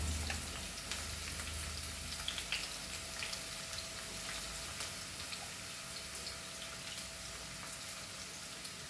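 Onions frying in a pan for a Goan pomfret side dish, a faint, steady sizzle with light scattered crackles throughout, quiet and without talking.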